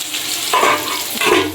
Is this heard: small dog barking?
no